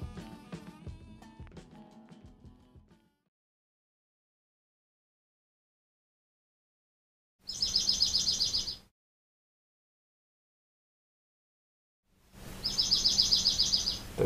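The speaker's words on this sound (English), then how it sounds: "There's actually some finches stuck in the greenhouse right now making all this racket back here" Finches trapped in a greenhouse chirp in two short, busy bursts of rapid high-pitched calls separated by silence, after some brief clattering at the start.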